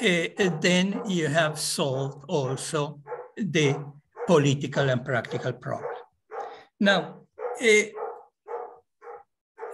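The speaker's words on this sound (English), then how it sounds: "sorry about the dogs outside" Dogs barking outside a countryside house, sharp repeated barks and yips heard clearly beneath a man's steady lecture-style speech.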